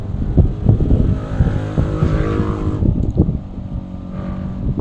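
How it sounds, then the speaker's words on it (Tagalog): Motorcycles passing by on a street, engines rumbling and revving loudly up close, then easing off as they move away, with a quieter idle drone left behind. "ang ingay ng mga motorsiklo guys."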